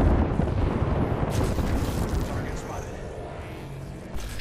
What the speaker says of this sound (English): Airstrike, get inside.